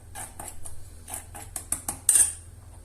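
Utensil clinking and scraping in a bowl while sugar and vanilla pastry cream are mixed together for a lemon basbousa cake batter, a run of sharp metallic taps building to a louder clatter near the end, close and with no talk.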